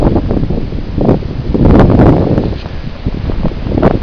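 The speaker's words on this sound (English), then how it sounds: "Maybe you can hear the wind." Wind gusting outdoors on a residential street during a Virginia blizzard, a steady broad rush that swells and buffets the microphone, loud and close throughout with no talking.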